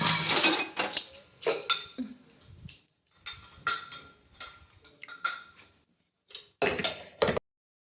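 Metal pots and lids clink and clatter in short bursts with pauses between, close by, as a pot of taro root is set on a stove to boil.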